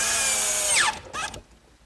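A power drill drives screws into the wooden base of a bookcase, its motor whining loudly and close, then winding down with a brief second spin before stopping.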